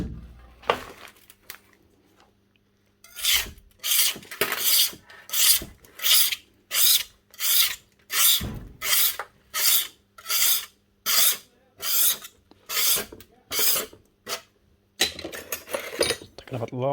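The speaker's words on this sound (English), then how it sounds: "All the gunk scraped off it onto the bin." Gunk being scraped off a parts washer tray into a bin: a long run of repeated rasping scrape strokes, fairly close and steady in rhythm, with brief talk near the start and end.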